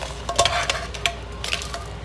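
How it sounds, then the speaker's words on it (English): Dried chilies tipped into a pot of hot water, giving soft splashing, stirring and faint bubbling sizzle with a few sharper knocks, close by with no talking. "So I'm just gonna add all of the chilies in here."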